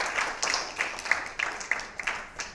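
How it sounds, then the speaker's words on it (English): Thin applause from a marketing conference audience in Dubai after a keynote, scattered claps in an irregular rhythm, fairly faint and distant in a large room. "Everyone, please put your hands together in a massive, massive round of applause."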